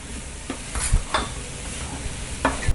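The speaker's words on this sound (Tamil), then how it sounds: "இப்போ நம்ம சாதத்தை போட்டு மிக்ஸ் பண்ணிக்கலாம்" Rice being stirred into sautéed carrots in a hot pan for carrot rice, with a soft frying sizzle under a few distinct scraping strokes of a spoon against the pan, close up and alone.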